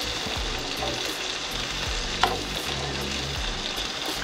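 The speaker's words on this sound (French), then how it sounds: "On prend toute la saveur du romarin et de l'ail avec le beurre qu'on ajoute sur le saumon." A salmon fillet fries in butter with rosemary and garlic, a steady close crackling sizzle with one brief sharp tap partway through, no voices present.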